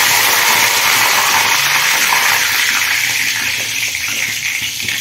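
Curry leaves sizzle in hot oil for tempering, a loud dense hiss that runs continuously and eases slightly toward the end, close and steady.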